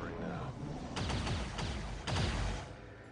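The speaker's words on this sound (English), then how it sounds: "Looks like the gunfire's coming from here." Gunfire in the game XCOM 2, with several faint bursts of shots rising out of a low rumbling background and spaced across a few seconds.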